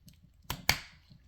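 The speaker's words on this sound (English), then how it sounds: "clicking together pretty nicely, so no issues" Plastic parts of a Bandai Namco Godzilla action figure snap together in two quick, sharp clicks a moment apart, the second louder, with faint handling rustle around them.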